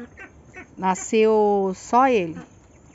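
Ducklings and geese on a small Brazilian farm pond call out in loud, drawn-out nasal honks and quacks, several overlapping calls close by, with someone speaking Portuguese briefly over them.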